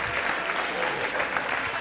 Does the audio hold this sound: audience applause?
yes